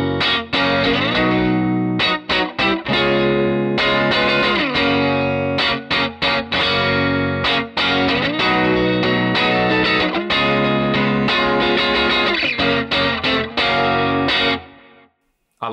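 Loud distorted electric guitar through a Fender Super Reverb amp model plays chords and riffs continuously with a washy, reverberant vintage amp tone, ending with a brief fade to silence.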